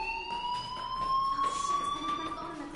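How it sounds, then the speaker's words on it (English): Fire alarm in a video game sounds a steady high electronic tone that rises slightly in pitch, moderately loud, with faint background noises underneath. "do you hear that fire alarm? That means you should be outside."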